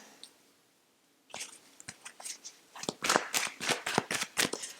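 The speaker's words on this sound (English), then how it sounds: "I'm going to shuffle these again" Tarot cards are shuffled by hand close up after a quiet start, a quick run of crisp riffling flicks and snaps growing busier toward the end.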